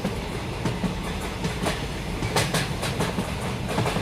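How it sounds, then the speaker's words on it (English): A train rolls past close by with a loud, steady roar and a rhythmic clickety-clack of wheels on rail joints that repeats across the whole stretch. "Got a train."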